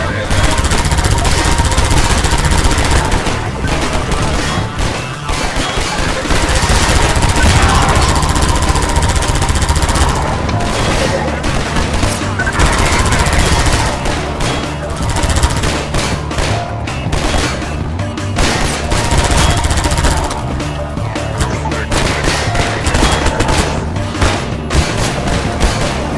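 Rapid, loud automatic gunfire fires at a helicopter in Half-Life 2, with continuous bursts and booming impacts layered over engine and rotor noise throughout.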